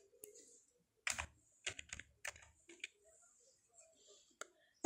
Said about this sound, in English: Now, I type the file name.